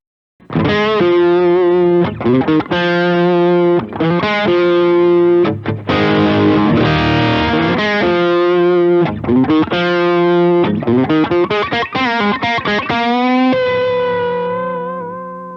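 Electric guitar through an Ibanez Tube Screamer overdrive pedal used as a lead boost plays a loud lead line of sustained, distorted notes and chords, with a short pause midway and a ringing final note that fades out.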